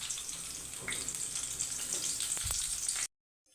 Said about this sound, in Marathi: तेल थोडं गरम झालं ना की त्याच्यामध्ये घालायचं लसूण